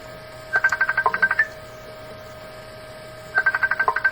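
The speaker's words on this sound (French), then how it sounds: "On me dit que ça serait les messages qui sonnent." A phone message notification rings in two bursts of rapid, bright electronic beeps over a faint steady hum, separated by a quiet gap, with no talk.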